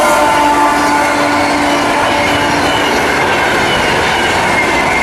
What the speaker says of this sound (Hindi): पूर्वा एक्सप्रेस अभी क्रॉस हुई है, तो हमारी ट्रेन की क्रॉसिंग हो गया है।